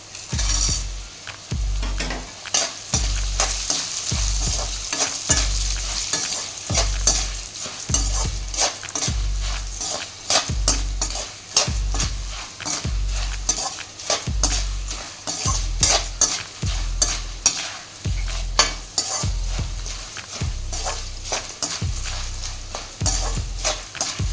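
Roasted peanuts for puliyodharai are stirred in a pan with fast, rhythmic scraping and knocking of a spatula against the metal. Low thuds repeat steadily throughout over a faint sizzle, close and fairly loud, with no speech.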